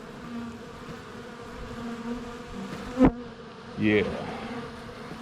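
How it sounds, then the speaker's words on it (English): A steady drone of many bees buzzing close by, with a louder buzz passing near the microphone and a brief word spoken partway through. "there was a good load of bees on this thing"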